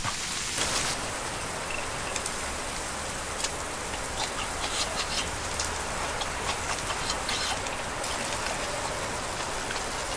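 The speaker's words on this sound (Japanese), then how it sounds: "雨降ってきましたわ。" Steady rain patters down across a riverside campsite at Kasagi during a new-year solo camping trip with a one-touch fishing tent, a dense, even hiss of drops hitting surfaces close by, continuous and without talk.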